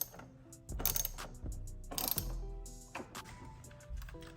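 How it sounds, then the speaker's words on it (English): Hand ratchet tightening charge pipe clamps on a BMW F34 340i GT with the B58 engine, several quick bursts of sharp clicking with pauses between strokes, close and fairly quiet, with no talking. "we'll go ahead and snug these clamps up"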